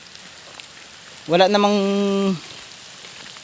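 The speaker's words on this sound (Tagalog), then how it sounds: "biglang lumakas ang ulan" Heavy rain pours down under hot, bright sunshine, making a steady broadband hiss throughout. A short voiced sound rises briefly over it near the middle.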